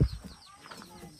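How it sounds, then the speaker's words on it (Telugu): A large village hen gives a short cluck up close, a brief burst at the start followed by faint, quieter clucking in the background. "పెద్ద కోడి."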